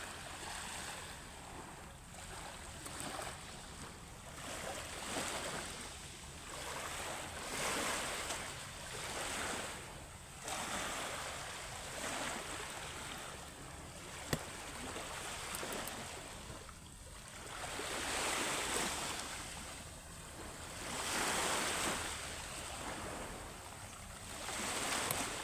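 Waves wash steadily onto the seashore of Burias Island, a broad, rushing surf that swells and recedes in regular surges with wind noise, fairly close and with no voices.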